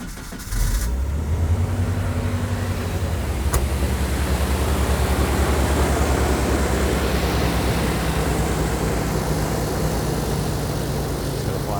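Jeep Comanche pickup engine idling steadily after a new water pump and alternator, a continuous low rumble with broadband noise that stays even throughout, close by with no talking.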